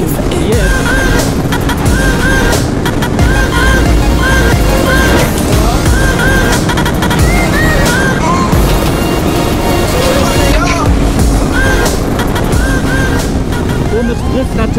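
A naked motorcycle engine roars continuously near 238 km/h, a loud, close, unbroken drone mixed with heavy wind rush, with small rises and dips in pitch.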